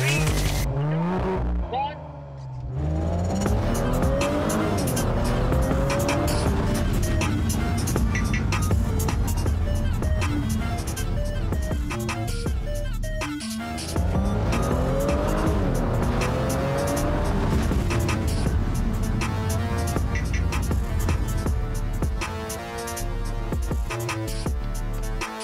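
An Audi S5 accelerating hard, the engine note climbing and falling through gear changes, loud and close from inside the car, with people talking over it.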